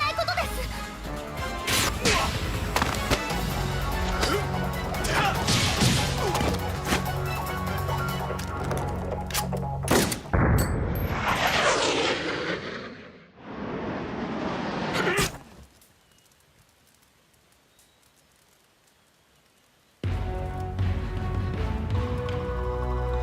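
Point-blank explosion in a Tekken video game cutscene, heard as a loud crash and whooshing burst cutting through dense music and effects, then a fading rumble before the sound drops to near silence.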